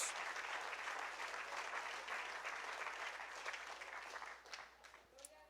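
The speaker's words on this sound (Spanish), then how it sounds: "Denle ese aplauso fuerte a Dios" A church congregation applauds loudly in praise, a steady wash of many hands clapping for about five seconds before it trails off.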